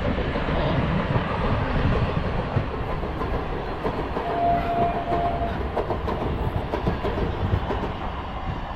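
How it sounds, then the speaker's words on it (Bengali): A 22-coach passenger train pulls out of a Kolkata station and runs on the rails, heard from onboard as a loud, continuous rumble with faint rhythmic clatter throughout. "আমাদের ট্রেন ছেড়ে দিল কলকাতা স্টেশন দিয়ে"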